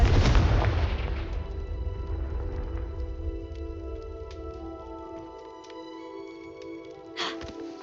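Confringo fire spell blasting in Hogwarts Legacy: one loud booming explosion with a long rumbling decay, a fainter burst near the end over low game ambience.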